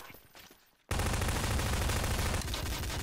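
After a quiet start, gunfire erupts abruptly in Trouble in Terrorist Town and keeps going as a loud, dense, continuous volley for the rest of the moment.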